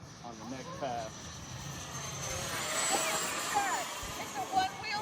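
A 3D-printed EDF model jet, a one-wheel U2-style plane, whooshes past with a steady rising and falling turbine roar, closest around the middle, while people chat over it in the open air.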